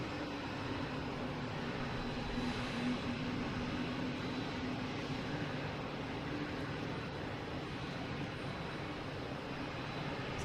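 A JetBlue Vacations livery airliner comes in to land on runway 4 right at Boston Logan, a steady, broad engine roar holding at moderate distance throughout without any talk.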